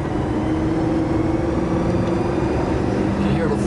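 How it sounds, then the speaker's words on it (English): A 1978 Cadillac Coupe de Ville V8 accelerates as its four-barrel carburetor opens up, a loud, steady roar of engine and road noise heard from inside the moving car, with no talk. "You hear the four barrel opening on it? It's pulling really well."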